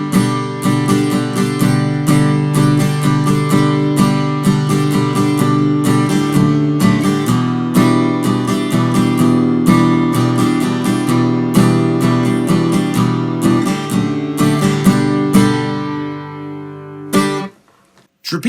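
Acoustic guitar strums a repeating chord progression for a popular acoustic song, bright and full, with steady rhythmic strokes played alone and up close before ringing out near the end.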